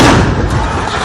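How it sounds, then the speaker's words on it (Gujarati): A gas cylinder bursts inside a house with a single loud, close blast and a dense roar that trails off over about a second. "દાહોદના મકાનમાં ગેસ સિલિન્ડર ફાટ્યો"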